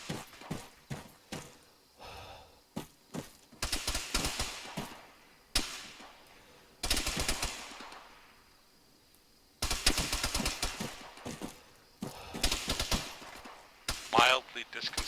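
Bursts of automatic gunfire crackle during Arma 3 counter-insurgency gameplay, with sharp single shots and longer rattling volleys at irregular intervals, some close and loud, broken by quieter gaps.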